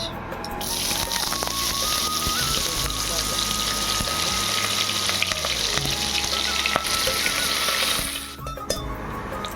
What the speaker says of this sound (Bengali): বিরিয়ানির বেরেস্তাটা আমরা ভেজে নেবো। তেল দিয়ে দেওয়া হয়েছে, গরম হয়ে গেছে। এবার দেওয়া হচ্ছে পেঁয়াজ